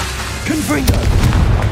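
A Confringo spell explodes in Hogwarts Legacy, a booming fire-spell burst with a heavy low rumble that rolls on for about a second, following a short tonal whoosh and mixed with game effects.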